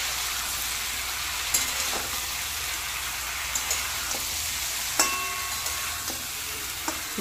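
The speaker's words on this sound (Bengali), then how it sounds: "ঝিঙ্গে আর বেগুনটা দিয়ে আরও 1 থেকে 2 মিনিট ভালো করে কষে নিতে হবে" Ridge gourd and eggplant sautéing with spices in a pan, a steady, even sizzle like light rain with a few faint clinks of a spoon against the pan, close and constant, no voices.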